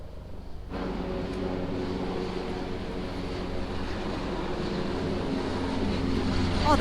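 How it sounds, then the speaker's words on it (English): A helicopter on Sentosa Island drones with a continuous low engine and rotor rumble that starts abruptly and holds steady and fairly loud throughout, with no talk. "there's an actual helicopter there"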